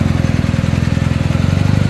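Motorcycle engine running loud and close, with a steady, rapid pulsing throb that holds even throughout and shows no clear fade into the distance.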